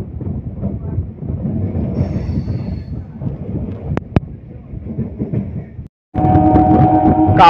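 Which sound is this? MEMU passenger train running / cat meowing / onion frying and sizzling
MEMU passenger train running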